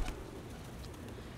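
Pigeons coo faintly in the ambient hum of the 16th Street BART station in San Francisco, a soft low murmur under steady background noise with no voices.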